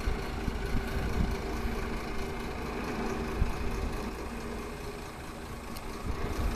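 A lorry engine rumbles steadily at low revs while the truck reverses a trailer into a loading bay. The drone stays constant and fairly close throughout, with no speech.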